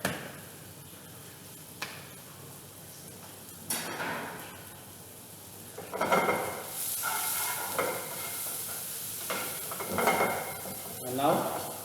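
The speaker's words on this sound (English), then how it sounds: "I'm going to add some salt into this. Pinch of salt so that onions get cooked faster." Onions cook in a pan with a pinch of salt for a French dish, a soft sizzle with scattered utensil scrapes and clinks against the pan, growing busier toward the end.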